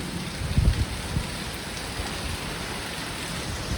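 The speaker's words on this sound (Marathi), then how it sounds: "आणि हा अवकाळी पाऊस" Heavy unseasonal rain falls outside a house, a steady dense hiss of downpour with a brief louder patter early on, continuous and fairly close, with no voices.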